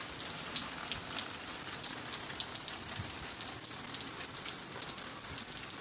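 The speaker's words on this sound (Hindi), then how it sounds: "थोड़ी सी बारिश जो है अब हल्की हुई है।" Steady rain in Karachi falls on a hard surface, a dense patter of drops with occasional louder splashes, continuous and fairly close.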